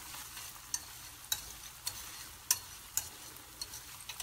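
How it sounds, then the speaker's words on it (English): Food sizzles softly in a pan on a stove while a utensil stirs it, bringing a few sharp scrapes and clicks at irregular intervals over a quiet, steady frying hiss. "Now I'm going to give these guys a stir."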